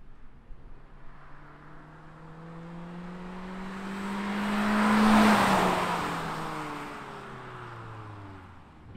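A 2021 Toyota Corolla Apex with a 6-speed manual drives past, its engine note rising as it closes in, swelling to a loud peak at mid-pass with shifting harmonic pitch, then fading as the car pulls away; no talk.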